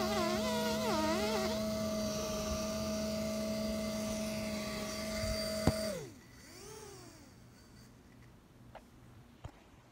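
Drone propellers cutting a nerf dart give a loud, steady, high buzzing whine that ends in a sharp snap, then spins down and fades to a quieter hum with a few small clicks.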